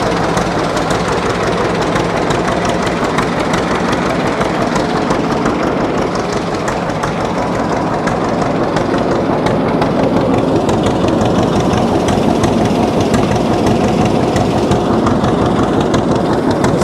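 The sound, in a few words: 1948 John Deere D tractor engine with straight pipe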